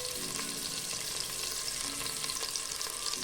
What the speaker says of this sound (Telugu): ఇప్పుడు ఈ ఉల్లిపాయ బాగా గోల్డెన్ బ్రౌన్ అయ్యేంత వరకు ఫ్రై చేసుకోవాలి